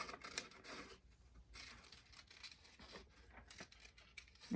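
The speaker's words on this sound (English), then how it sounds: "Notice how I'm turning the paper more than I'm turning my scissors." Scissors snip through paper in short, uneven bursts of cutting and rustling as the sheet is turned, close and fairly quiet, with no talking.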